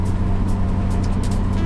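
Slow Ram truck with a 95 horsepower engine, driving in traffic and heard from the cab as a continuous low, heavy engine drone with steady road noise and faint ticking, no talk.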